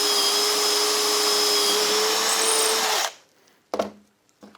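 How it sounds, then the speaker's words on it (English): A power drill bores into a piece of wood clamped in a vise, whining loudly and steadily for about three seconds before it stops, followed by a few short knocks. "try and keep the drill nice and upright"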